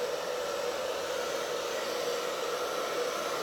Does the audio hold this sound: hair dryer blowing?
yes